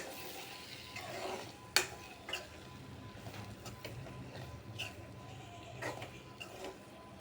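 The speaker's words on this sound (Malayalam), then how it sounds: "ഇനി നമുക്ക് ആ മുട്ട ഇതിലേക്ക് ചേർത്ത് കൊടുക്കാം നന്നായിട്ടൊന്ന് ഇളക്കി യോജിപ്പിച്ചെടുക്കാം" Eggs being stirred into masala in a pan for a Kerala egg curry: quiet scraping and soft sizzling with a few sharp spoon knocks against the pan, close but faint.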